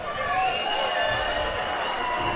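Crowd noise at an XFC 53 MMA cage fight, a steady wash of cheering and arena roar filling the whole stretch, dense and continuous with no clear breaks.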